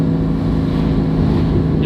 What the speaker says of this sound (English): This exhaust sounds insane.